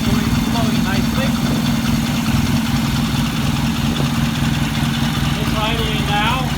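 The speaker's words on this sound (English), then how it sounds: "Idling now at about 700 RPM or so." A vintage British motorcycle engine idles steadily at about 700 RPM with a low, even rumble throughout, while a person talks over it.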